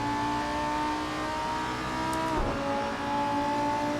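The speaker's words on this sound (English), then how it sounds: "It really is a great sounding Lamborghini." A Lamborghini Super Trofeo race car in a sim racing game at Brands Hatch, its engine droning loud and close at a steady pitch, with a brief dip and recovery midway like a gear change.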